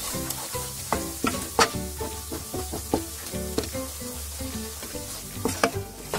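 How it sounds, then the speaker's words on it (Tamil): Spice powders, including coriander powder, sautéing in a pan for paneer butter masala: a close, hissing sizzle broken by frequent spoon scrapes and knocks in an uneven stirring rhythm. "இப்போ எல்லா தூளும் பச்சை வாசனை போகிற அளவுக்கு நல்லா வதக்கிக்கோங்க."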